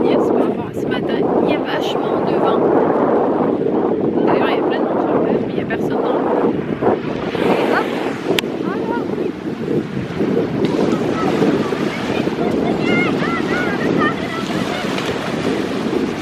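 At a beach, steady wind buffets the microphone over a continuous wash of surf, loud and close, while people talk intermittently in the background.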